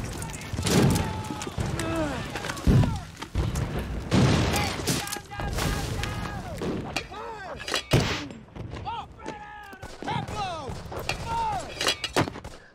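Mortar fire in a Band of Brothers war scene: repeated booms and sharp blasts with whistling, descending tones overhead, loud and chaotic, mixed with shouting voices throughout.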